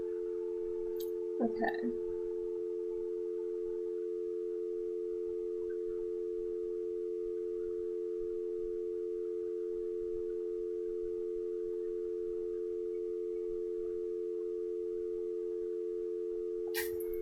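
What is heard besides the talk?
telephone dial tone in Nancy Drew video game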